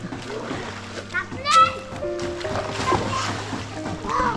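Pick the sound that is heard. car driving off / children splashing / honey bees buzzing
children splashing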